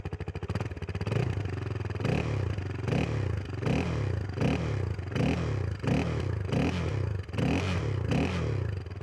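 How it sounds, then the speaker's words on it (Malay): The single-cylinder exhaust of a CFMOTO 250 Dual motorcycle with double overhead cams thumps close by, its engine rising and falling in rhythmic revving pulses roughly every second. "Not bad lah bunyi exhaust dia."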